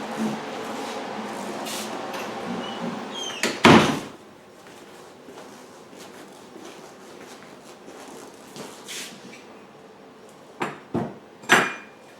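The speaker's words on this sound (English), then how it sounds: "Let me close the door so we can hear better." A door swings shut with one loud thud a few seconds in, followed by quieter knocks and clatters later, in a workshop during generator cabinetry work.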